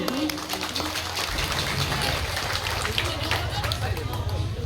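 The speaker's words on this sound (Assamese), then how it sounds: "তেখেতৰ কাৰণে এটা হাত চাপৰি সমূহ দৰ্শকৰ পৰা আশা কৰিছোঁ" An audience at an Assamese Rongali Bihu cultural function claps for a local MLA, a dense, continuous round of applause following a short announcement in a voice.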